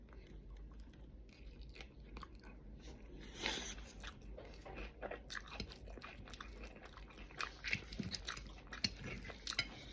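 Someone eats mashed green plantain with fried eggs and longanisa close to the microphone, with soft irregular bites, crunches and chewing sounds and faint utensil clicks at low volume.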